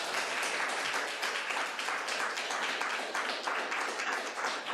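A school board meeting audience breaks into steady, dense applause that carries on evenly throughout, with many people clapping together at moderate distance and no talking over it.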